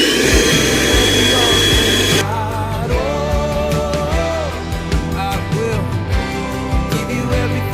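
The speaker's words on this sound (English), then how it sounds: "We're gonna try to vacuum it out with the little vacuum." A small vacuum sucks debris out of the area around a wood-burning stove in a mobile home, giving a loud, close, steady roar. Clattering knocks and scrapes come through as the nozzle is worked around the opening.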